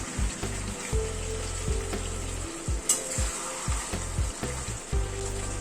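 Onion juice sizzles in a pan of Gandharaj chicken curry, a steady close frying hiss broken by repeated stirring scrapes and soft clatters throughout, with no talking.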